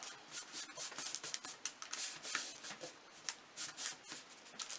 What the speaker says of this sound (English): you want to be sure and rub and press pretty firm to get it to transfer